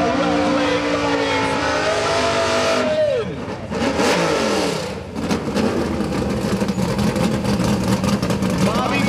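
Drag racing cars, a Mustang and a nitrous small-block Camaro, roar loudly with engines revving and pulling down the track. The racing noise continues throughout, with a brief dip midway and a commentator talking over it.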